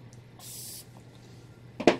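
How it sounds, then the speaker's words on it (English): A short hiss of makeup setting spray misted onto a face, faint and close, followed by a louder brief clatter near the end. "So I just applied a little bit of setting spray"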